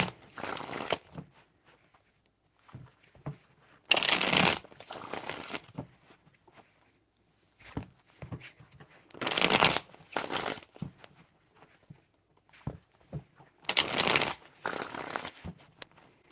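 Tarot cards shuffled by hand in several separate rustling, riffling bursts, close and fairly loud, with quiet gaps between them and no talking.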